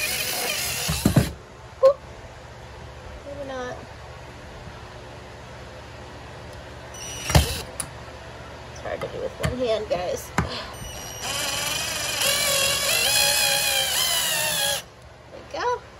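A power drill drives screws through a board into a wall stud while framing a bathroom wall, with brief bursts early on and a louder sustained whirring run near the end, interspersed with a person talking.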